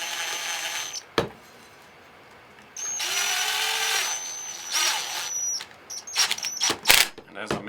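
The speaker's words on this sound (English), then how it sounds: "Then take your impact, and you don't want to hit it hard, just go easy with it." An impact driver fitted with a 1/4 inch bit whirs in a few short bursts on a spa hot tub pump during seal and bearing repair work, loud and close with pauses between runs.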